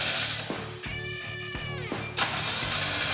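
Car engine cranking over and over without firing, a steady rhythmic starter whir in several long bursts with short pauses between, loud and close, no voices.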